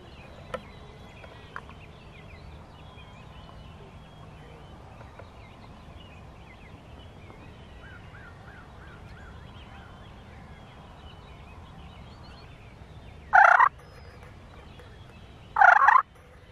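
Wild turkey gobbles on a farm, two loud, short bursts near the end of the clip, heard over a steady outdoor hum of insects and breeze with a few faint bird chirps earlier.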